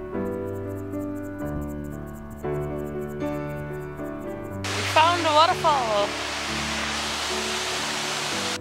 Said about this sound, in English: Waterfall. Another one.